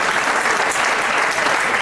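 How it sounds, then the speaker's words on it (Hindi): Loud, dense applause from an audience at a book launch event in India, a continuous wash of many hands clapping close by, with no voices over it. "पवन भैया के सम्मान में एक बार तालियां हो जाए"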